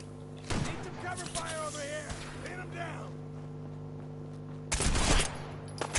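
Gunfire in the video game Fallout 4, bursts of rapid shots at the start and a louder volley near the end, with voices talking over the game audio between them.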